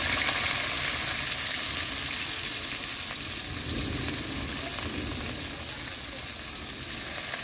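A steady, dense sizzle of onions frying in hot oil in a wok, with occasional stirring sounds and no talking.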